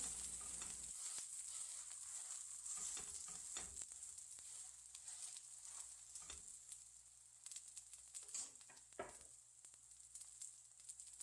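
A shepherd's purse pancake of batter over the greens fries in a pan, giving a steady, soft sizzle throughout with occasional light clatters from handling.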